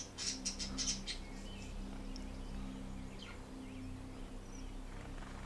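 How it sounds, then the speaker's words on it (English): Birds squawk and chirp in a quick cluster of calls near the start, then scattered fainter tweets over a low steady background hum, with no one speaking. "Birds are loud, but I like the birds."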